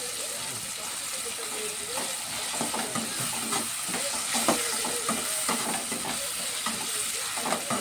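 Prawns sauté in a pan with tomatoes, coriander and mint, giving a steady close sizzle with occasional stirring scrapes throughout.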